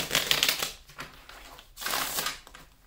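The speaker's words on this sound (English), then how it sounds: "So I'm going to take a card for each sign." Tarot cards being shuffled and drawn nearby, with a dense papery riffle at the start, softer card slides in the middle, and another long brushing shuffle toward the end.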